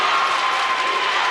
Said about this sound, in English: Summertown crowd on their feet.